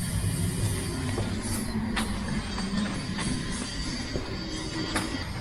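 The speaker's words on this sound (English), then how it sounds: "So now we're gonna let the diesel pump run." The low-pressure diesel fuel pump on a Land Rover Discovery 3, jumpered to run on its own, gives a continuous close mechanical whir. Faint ticks recur through it and the level stays steady.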